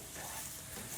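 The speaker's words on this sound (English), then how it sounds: "our bacon is starting to cook." Bacon frying on a BBQ for paella, a steady close sizzle with hissy crackle and no talk.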